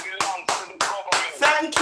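An audience at a talk applauds with steady, fairly loud hand clapping that swells in a few bursts, close by, without voices over it.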